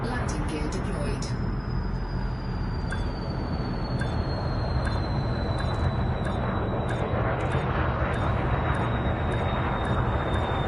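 Spaceship setting down on a landing pad in Elite Dangerous with its landing gear deployed: a steady, loud mechanical rumble and hum that fills the whole stretch, with a thin high whine slowly falling in pitch and faint clicks above it.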